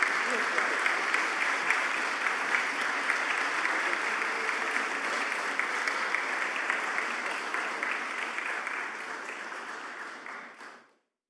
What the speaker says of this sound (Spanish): Yo los invito a que acompañemos con un fuerte aplauso este momento entonces.